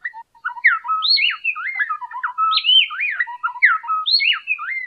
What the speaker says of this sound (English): complex duets sung by pairs of songbirds like these black-bellied wrens